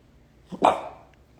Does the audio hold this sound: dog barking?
yes